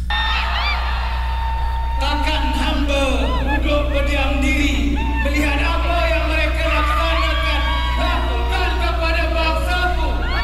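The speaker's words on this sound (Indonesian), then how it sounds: "Wow, teriaknya histeris banget" A large Malaysian crowd screams, whoops and yells loudly and continuously, near and dense throughout, with a steady low hum beneath.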